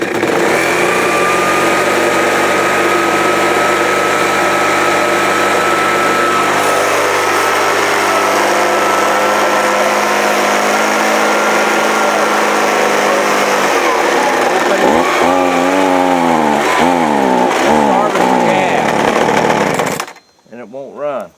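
A small two-stroke leaf blower engine, started on choke and running lean, screams at a high steady pitch, then surges and warbles unevenly before cutting out abruptly near the end.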